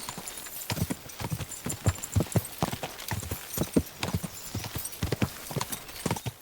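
Hooves of a horse galloping in Kingdom Come Deliverance 2 beat out a fast, rhythmic clip-clop, loud and close, running continuously for several seconds with no voices.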